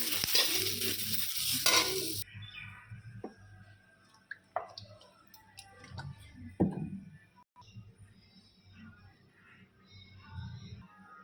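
Chopped onion dropped into a hot pan, a loud burst of sizzling in the first two seconds, then quieter scattered scraping and stirring clicks.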